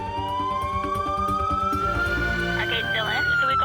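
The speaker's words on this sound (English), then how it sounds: "we've got the ambulance on the way, lights and sirens." An Australian ambulance siren wails loud and close, its tone sweeping steadily upward over a few seconds against a busy background of engine and road noise.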